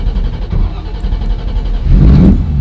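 Ford GT40 replica engine revs up loud and close, with a rising mid-range roar near the end.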